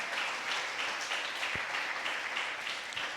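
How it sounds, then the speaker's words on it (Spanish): A church congregation applauds in a steady patter of many hands clapping, sustained and fairly full, with a single louder thump partway through. "dele ese aplauso al Rey."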